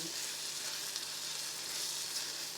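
Tomatoes go into a frying pan, and a soft, continuous sizzle and crackle of frying carries on evenly at close range with no talking.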